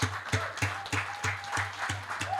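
An audience at an academic conclave at CEPT University claps together in a steady rhythm, with about eight sharp, evenly spaced beats. The claps sound moderately loud and close, with no clear speech.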